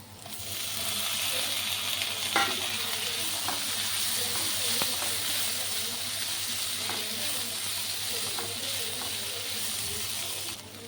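Onions fry in a pan for potato gravy, a steady soft hiss of sizzling oil with a low hum underneath and a few faint clicks of a utensil, moderately quiet and continuous throughout.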